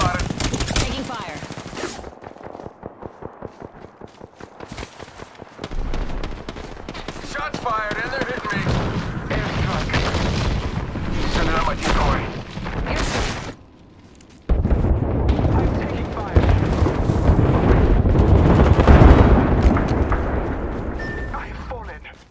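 Sustained automatic gunfire and impacts in the video game Apex Legends, with rapid rattling volleys, brief pauses and a louder dense burst later on, mixed with game voice lines.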